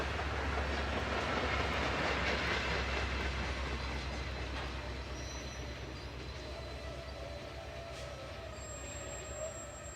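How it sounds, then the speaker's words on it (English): An HO scale Athearn Genesis model locomotive fitted with a TCS WOW Sound decoder rumbles steadily through a model rail yard, with a constant engine drone and a few thin squeals and tones above it, with no talking. "Yard power moves east down the yard throat to the arrival and departure, or AD track."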